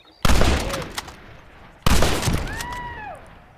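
Two loud, sharp gunshot blasts in the Red Dead online video game, about a second and a half apart, each trailing off in a long echoing decay with faint whistling tones after the second.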